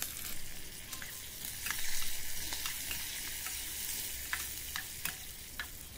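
Cumin, asafoetida, green chilli and curry leaves sizzle in hot ghee, a steady crackling fry with scattered sharp pops and spits and a brief surge in intensity, quiet and close with no talking.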